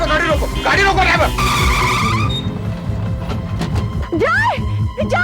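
A car brakes hard and skids to a stop, its tires squealing loudly and continuously for several seconds. Shouting voices cut in over and after the skid.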